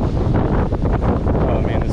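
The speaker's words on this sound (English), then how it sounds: "I'm really hoping this wind doesn't kill the audio" Strong wind buffets a microphone on a fishing jetty by the ocean, producing a loud, continuous low rumble and roar with gusty swells that bury everything else.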